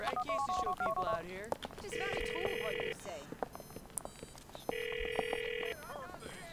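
A mobile phone in GTA IV dials a call, giving two sustained electronic dial tones separated by a gap, preceded by short beeping keypresses, with game sounds underneath.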